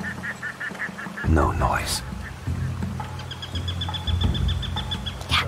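Geese honk loudly and other birds call in a feudal Japanese level of the stealth video game Shadow Tactics. A sharp burst of honking is followed by steady ambient bird chatter, with brief voice lines over it.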